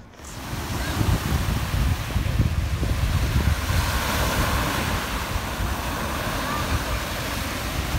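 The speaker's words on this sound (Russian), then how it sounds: "Ну вот, городской пляж." Surf washes steadily onto a busy city beach in southern France, a continuous loud rush of breaking waves with low rumble and some wind buffeting, no clear voices over it.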